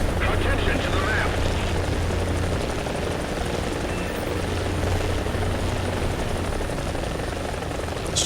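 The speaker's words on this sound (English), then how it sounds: "This chopper is fucking awesome." A helicopter in the video game War Thunder roars continuously with a loud, steady rotor and engine wash, close and dense throughout, while a player speaks over it.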